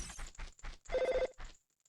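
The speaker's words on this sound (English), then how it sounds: "It's a goddamn phone." A telephone rings in a Zelda 64 romhack video game, a few short bursts of a trilling bell tone separated by brief gaps, clear and fairly quiet before trailing off.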